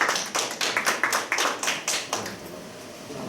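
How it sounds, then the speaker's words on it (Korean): Applause from an audience welcoming two speakers at a Korean conservative YouTuber talk festival, a burst of close, crisp rhythmic clapping that thins out and fades after about two seconds. "큰 박수로 환영해 주시기 바라겠습니다"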